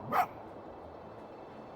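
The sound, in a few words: fox barking in video game Spirit of the North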